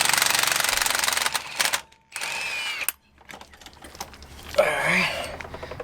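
An impact gun rattles off 21 mm strut bolts on a truck's suspension, giving loud hammering bursts separated by brief pauses, close by, with some faint clatter afterward.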